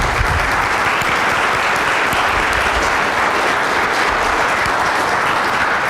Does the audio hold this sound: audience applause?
yes